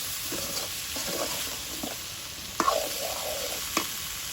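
Boiled taro and raw potatoes tumbling into a sizzling crab curry in a village kitchen, a steady fry hiss with stirring scrapes and a sharp clatter partway through.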